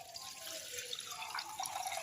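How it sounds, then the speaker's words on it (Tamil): Water pours from a jug into a burnt pot sitting on a stove, a steady close splashing and trickling stream with no one talking. "இப்போ நான் இந்த பாத்திரத்தை அடுப்பு மேலே வச்சுட்டு ஒரு சொம்பு தண்ணி ஊற்றிக்கிங்க"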